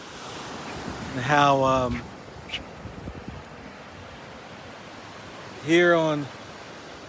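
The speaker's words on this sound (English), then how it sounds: "as the waves are crashing" Atlantic Ocean surf breaking on the shore, a steady broadband wash of waves heard under a voice speaking in two short bursts.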